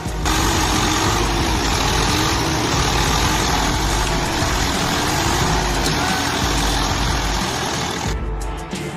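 A tractor engine labours while pulling a tractor out of mud, giving a loud, steady mechanical drone with a wavering rev. It runs continuously and cuts out briefly near the end. No one talks.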